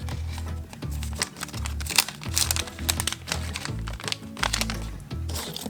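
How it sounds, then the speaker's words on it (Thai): Clear cellophane gift bag crinkling up close as a Valentine's gift is packed, a steady run of sharp rustles and crackles with brief pauses, with no voices. "เดี๋ยวเราก็จะใส่ซองแก้วนะคะ ซองแก้วก็จะเป็น ซองใส ๆ แบบนี้"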